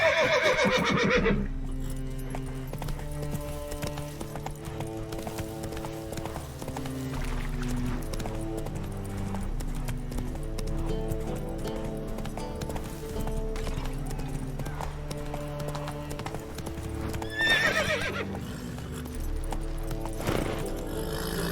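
Roach the horse gallops in The Witcher 3, hoofbeats clip-clopping under a steady musical score that fills the whole stretch, with a brief whinny near the start.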